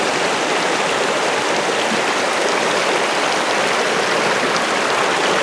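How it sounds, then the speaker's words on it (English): Flood-swollen creek water rushes over rapids and small waterfalls in a steady, loud, unbroken roar, close by and with no voices over it. "We actually got rapids in our waterfalls."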